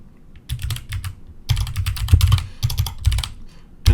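Rapid bursts of keystrokes on a computer keyboard while Arduino code is typed, clattering in quick clusters with short pauses between them, close and fairly loud, with no talking.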